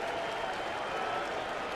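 A Friday night baseball crowd at a Cleveland stadium sends up a steady wash of applause and cheering, broad and distant-sounding, continuous from start to finish with no clear individual voices.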